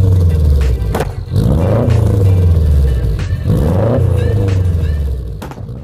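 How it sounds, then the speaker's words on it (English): A boxer engine runs with a deep, throbbing rumble that rises and falls in loud revving swells, with a few sharp clunks between them. "giving the BOXER engine a distinctive sound"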